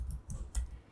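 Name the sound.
computer mouse click on the create button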